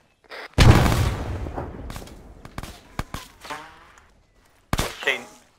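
Grenade explosions in Arma 3 during a player-versus-player trench fight: a big booming blast near the start that decays over a couple of seconds, scattered sharp cracks after it, and another loud burst near the end.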